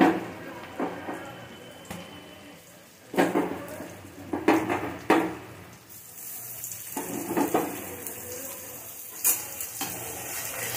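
Onion and garlic frying in a pan for a Bengali-style egg curry, with a steady sizzle under repeated scraping and stirring strokes and occasional utensil clinks, close and moderately loud.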